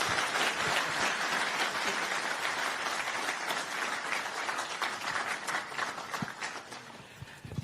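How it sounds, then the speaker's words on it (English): Audience round of applause at a political talk event, sustained dense clapping from a crowd that holds steady and slowly thins out near the end. "big round of applause"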